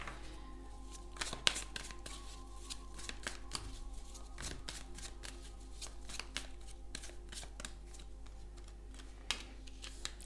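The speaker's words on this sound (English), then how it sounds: "a lot of cards fell out of the deck" Tarot cards are gathered up and shuffled by hand, a steady run of crisp papery riffles and taps with no talk.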